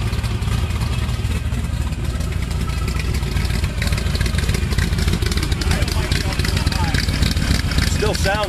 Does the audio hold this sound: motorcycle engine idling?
yes